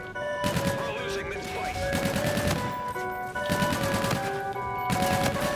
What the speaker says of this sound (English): Just pre-firing with an NV4, doing whatever I can